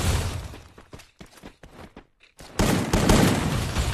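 Gunfire in a first-person shooter game: a rapid burst of sharp shots, then scattered single shots and a loud sustained blast of noise at the end.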